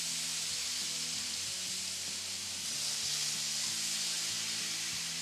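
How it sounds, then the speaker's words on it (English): Loud, steady sizzling and hissing of wet asparagus frying in a hot pan, with faint tonal hum underneath, continuous throughout. "because it will sizzle when there's water."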